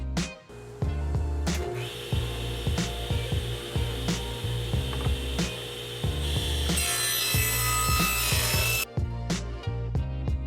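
A table saw set with a 2.5-inch stop rips wood for Shaker cabinet door rails and stiles, its motor humming steadily while blade cuts whine and bite repeatedly in a close, loud, busy rhythm.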